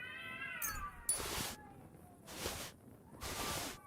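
A cat meows in the video game Kingdom Come: Deliverance II, one clear wavering mew near the start, followed by several broadband rustling bursts of game noise.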